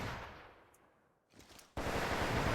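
Gunfire in the shooter game The Division 2, a decaying burst fading to near quiet, then a sudden loud, dense barrage of rapid shots that continues steadily to the end.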